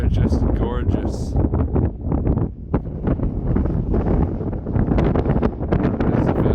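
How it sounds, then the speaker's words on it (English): Strong gusts on an exposed mountain ridge batter the microphone with loud, continuous rumbling buffets, and a voice talks underneath the roar. "it is super windy"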